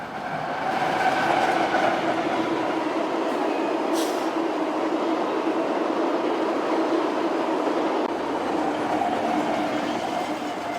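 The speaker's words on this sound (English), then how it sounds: "starting with this Christmas train coming into Barstow" A special Christmas train rolls into Barstow, California, a loud, continuous rumble of railcars and wheels on track with a steady mechanical drone and a brief squeal midway.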